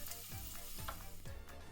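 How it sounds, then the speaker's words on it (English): Onions stirred into hot oil with spices for an Indian keema sizzle and crackle steadily up close, with a few louder scraping stirs breaking through the continuous frying hiss. "add in all the onions and mix them well in the oil"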